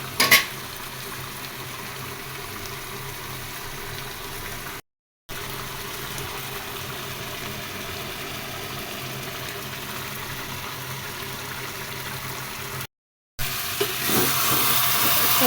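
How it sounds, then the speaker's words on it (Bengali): Fish bhuna cooking with raw onions in a pan, a steady broad sizzle and hiss of frying throughout with brief dropouts, fairly loud and close, no talking. "বরাবরই আমি কাঁচা পেঁয়াজ দিয়ে মাছ ভুনা করি।"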